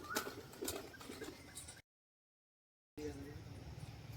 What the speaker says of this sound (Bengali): ওর ভিতরে সব পায়রাগুলো ঢুকে যাচ্ছে।